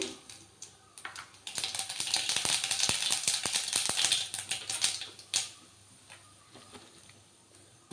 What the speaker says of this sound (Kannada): ಮೊದಲು ಎಣ್ಣೆ ಕಾಯಕ್ಕೆ ಇಟ್ಕೊಂಡಿದ್ದೀನಿ ಸಾಸಿವೆ ಹಾಕೋತಾ ಇದ್ದೀನಿ